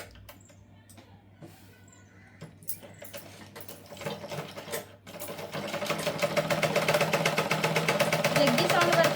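A sewing machine stitching an umbrella frock from an old saree runs with a jerky, uneven clatter from a knotted thread, a few scattered clicks at first building into a loud continuous whirr.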